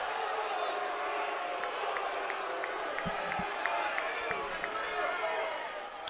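Baseball crowd at a college game between Mississippi State and Ole Miss swelling in a steady, continuous roar as a deep fly ball carries, broad murmur and cheering held at an even level throughout with a few scattered shouts.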